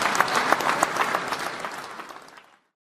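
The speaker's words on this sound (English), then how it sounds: "Uproarious applause" A crowd at a political campaign event in Brampton, Ontario breaks into loud, sustained applause, a thick wash of clapping that swells, then gradually thins and fades out to silence near the end.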